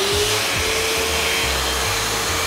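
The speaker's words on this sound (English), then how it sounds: "What we would recommend for that would be something like a handheld carpet shampooer." Handheld carpet shampooer humming steadily with a constant whine and airy suction, up close and unbroken.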